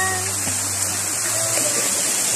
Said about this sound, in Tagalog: Punta tayo dito sa may shower.